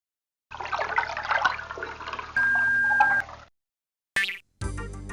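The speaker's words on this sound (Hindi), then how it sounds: "अब डालो पानी।" In an animated cartoon, water gushes and splashes in a long pour, then a steady stream runs for about a second. It ends in a couple of short, sharp cartoon effects with no speech.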